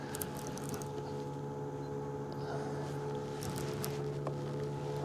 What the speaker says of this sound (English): I hear a boat coming somewhere.